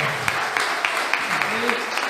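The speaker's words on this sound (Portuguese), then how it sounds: "Aplauda o Senhor" A church congregation at a Sunday family service claps in a steady rhythmic beat, with sharp, evenly spaced hand claps over a background of voices and music.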